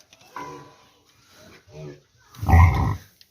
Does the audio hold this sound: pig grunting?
yes